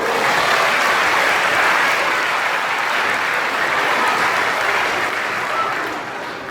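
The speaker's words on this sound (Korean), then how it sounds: "박수 한번 해주세요" A church congregation bursts into warm, sustained applause, many hands clapping together at once, full and loud before easing off slightly near the end.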